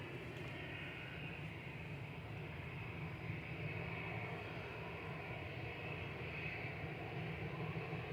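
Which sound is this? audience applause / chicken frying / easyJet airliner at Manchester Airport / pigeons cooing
easyJet airliner at Manchester Airport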